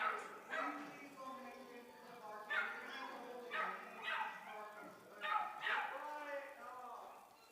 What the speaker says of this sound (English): there's some puppies here in the arena making a little bit of background noise